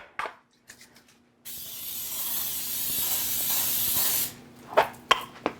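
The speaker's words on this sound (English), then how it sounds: "I am going to spray this with some non-stick spray" A steady non-stick cooking spray hisses for about three seconds, preceded and followed by light clicks and handling sounds close to the microphone.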